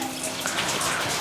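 Water runs steadily from a fountain-style shower fixture in a washroom of a village panchayat community building, making a close, even hiss and splash.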